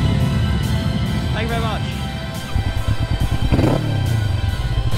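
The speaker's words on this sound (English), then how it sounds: "3, 2, 1, rev it!" A Kawasaki Vulcan S motorcycle engine idling with a steady rumble, then throttled up in short revs near the microphone, while someone speaks over it.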